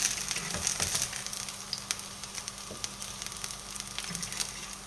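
Potato galettes with gruyère and ham fry in oil, giving a steady close sizzle with scattered crackles and pops and a few soft clinks of a utensil, and no voices.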